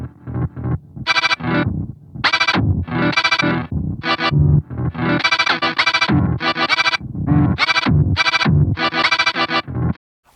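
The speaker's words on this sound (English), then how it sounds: "this is the error mode for playback. It destabilizes the playback speed and the direction." A Chase Bliss Onward pedal in error mode mangles its playback into glitchy, reversing, speed-warped phrases: loud choppy bursts that stutter and cut out in uneven rhythm, with a few brief gaps, and no voice over it.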